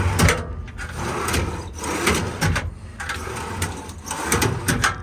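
Metal tool drawers with worn but working ball-bearing slides on the bed of a 2018 Kenworth T370 welding truck, rolling open and shut several times in short, sharp bursts with a bright metallic rattle.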